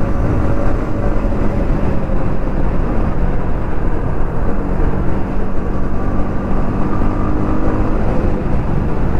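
A Yamaha MT-15 V2 BS6 motorcycle engine at maximum RPM roars as a loud, dense, steady drone mixed with wind rush during a ride, with no voices over it.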